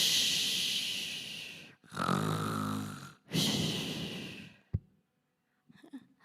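A comedian on stage mimics snoring with long, loud, raspy inhales and exhales, three drawn-out breaths followed by a sharp snort and faint audience sounds.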